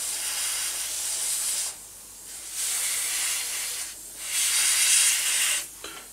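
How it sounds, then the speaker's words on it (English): An airbrush sprays Dove Grey paint onto a 1/32 F-14A model kit, giving three loud, close, steady hissing bursts with short breaks between them. "So let me get the airbrush."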